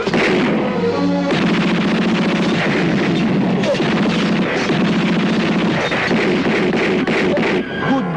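Dense, loud gunfire from an action film fight scene, rapid shots and blasts layered into a continuous clattering barrage over a music score, with no clear pauses.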